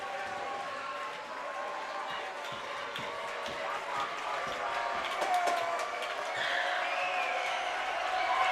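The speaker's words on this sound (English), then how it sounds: "Crowd is getting loud." A high school boys basketball crowd in a gym grows loud around a free throw, a steady broad roar of voices and scattered claps that builds toward the end, with sharp knocks and a commentator talking over it.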